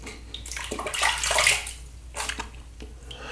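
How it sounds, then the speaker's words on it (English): Running water splashes and trickles as charcoal activated shaving soap is rinsed off the face, a steady close wash with brief surges and no talking. "Let's rinse off."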